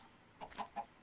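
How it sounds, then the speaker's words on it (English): A Minecraft chicken clucks three short times in quick succession, fairly close and alone over a faint background hiss. "maybe we can get this chicken to die."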